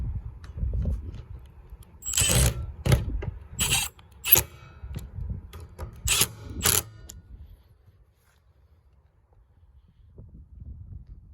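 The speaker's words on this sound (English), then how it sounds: "I'm going to need use my impact star bit" Several short bursts of an impact driver with a star bit tightening screws on a trailer door latch, each a sharp buzzing rattle, loud and close, with quiet pauses between and near silence at the end.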